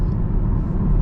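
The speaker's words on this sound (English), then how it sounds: "this LT1 just has a really nice low-end growl to it" A 2022 Camaro 2SS 1LE with the LT1 V8 gives a deep, low exhaust growl, a brief steady rumble heard close.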